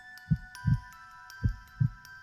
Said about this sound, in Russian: Сердцебиение.